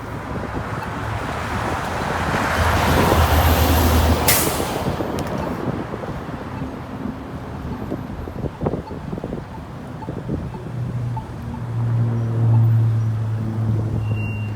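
Cars and trucks pass on a Las Vegas street, a continuous roar and rumble of traffic swelling and fading, with heavy wind buffeting the microphone.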